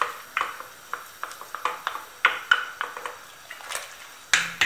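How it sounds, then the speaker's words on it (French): Washed, drained lentils going into a pot of Moroccan harira: a string of bright metallic spoon taps and pings on the pot, fairly regular and close up, with no one talking. "Je rajoute les lentilles lavées et égouttées."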